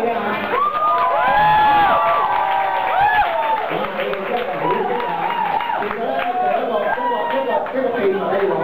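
An audience at a comedian's promotional event in Malaysia cheers, whoops and shouts with scattered clapping, a loud, continuous wall of crowd noise filled with excited voices.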